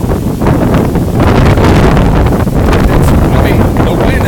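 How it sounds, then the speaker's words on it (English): Hurricane Irma's strong wind roars steadily and loudly across the microphone in Jacksonville, Florida, a dense buffeting rush with no letup. "the wind is really blowing"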